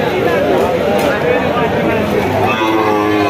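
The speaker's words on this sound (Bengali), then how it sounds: "কত সুন্দর বাছুর দেখুন" A Sahiwal bull calf at a cattle market in Jashore lows amid a dense, loud crowd of voices and livestock noise, and people talk throughout.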